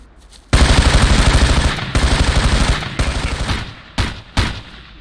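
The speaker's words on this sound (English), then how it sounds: "Saw Gunner starts ripping off like that" A SAW machine gun fires in loud, close sustained bursts in Ghost Recon (2001), one long rattling volley followed by shorter strings of rapid shots and two brief final bursts.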